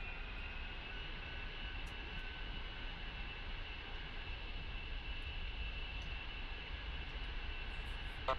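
An A-10 jet rolls down the runway in DCS World, its engines holding a steady, loud whine and roar over a broad rumble for several seconds, with no talking.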